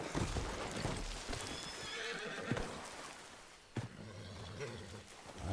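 A horse in a video game whinnies loudly and gallops with rapid clip-clop hoofbeats, up close and continuous across the whole stretch.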